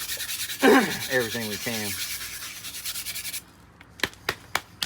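Worn sandpaper rubs over body filler on a car body panel in a run of close, steady scraping strokes that stop near the end, followed by a few sharp taps; a voice speaks briefly at the start.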